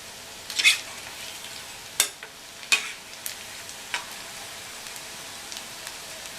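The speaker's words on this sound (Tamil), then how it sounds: "இப்போது லைட்டாக இப்படியே பிரட்டி விட்டுறலாம்." Onion pakoda fry in hot oil with a soft, steady sizzle while a utensil turns them, giving a few sharp clinks and scrapes, the clearest near the start and fading to lighter taps.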